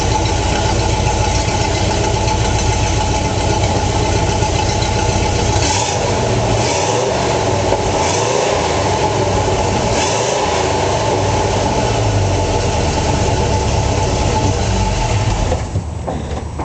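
A 1966 Ford Bronco with a 289 V8 runs at idle through its original-style stock single exhaust, giving a steady, loud low rumble that holds unbroken for about sixteen seconds with no talk over it.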